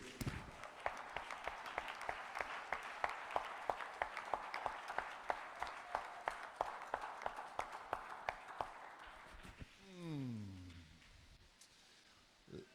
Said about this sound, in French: Applaudissons nos monos, s'il vous plaît